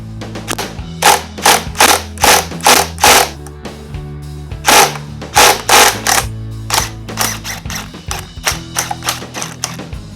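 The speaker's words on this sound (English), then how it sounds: "get a 12mm Allen key and either a big breaker bar or an impact gun like I've got." Impact gun loosening a 12mm Allen bolt on a Ducati Panigale motorcycle, heard as loud repeated bursts of rapid hammering separated by short pauses, tapering into lighter quicker bursts toward the end.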